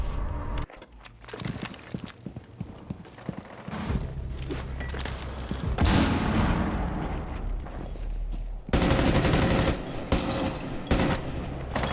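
Rainbow Six Siege gunfire: rapid automatic weapon bursts and clattering shots in a match, loud and near, broken by short gaps and equipment rattles, with no voices.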